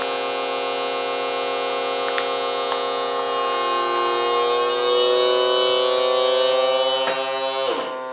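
An AP-18 VERYMODEL vacuum sealer pumps air out of a bag in a steady, droning motor hum with a whining overtone that holds for several seconds, then drops in pitch and cuts off near the end.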